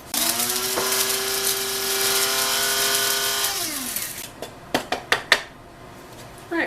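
A salt grinder cranks coarse salt in a steady scratchy grind lasting a few seconds, followed by several sharp clicks and knocks as it is handled.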